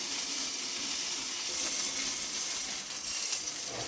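Lamb loin searing in a hot pan gives a loud, continuous sizzle and crackle, close up and steady throughout, with no talking.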